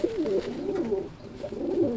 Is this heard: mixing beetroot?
no